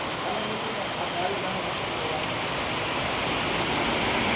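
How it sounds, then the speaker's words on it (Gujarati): Heavy rain pours down without a break, a dense, even wash of hissing noise that stays loud and constant throughout. "વરસાદ બહુ છે મિત્રો, તમે જોઈ શકો છો."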